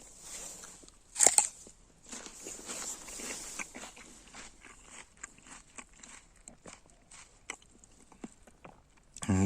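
A crisp bite into a crunchy, juicy winter pear followed by a run of quiet, wet crunching chews, close and soft, with faint irregular clicks throughout.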